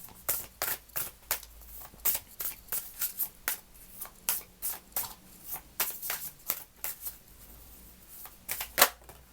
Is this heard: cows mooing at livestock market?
no